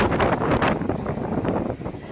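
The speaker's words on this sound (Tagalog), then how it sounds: "Sa lakas ng hangin," Strong storm wind from the approaching Typhoon Marce, heard as a steady, loud broadband roar with gusting surges and microphone buffeting throughout, alone without talk.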